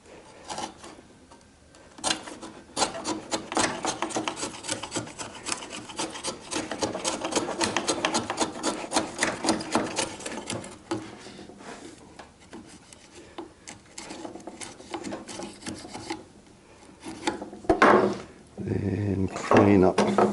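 A chisel paring and scraping wood while fitting a mortise and tenon joint, giving repeated close rasping strokes with uneven pauses and a few louder knocks toward the end.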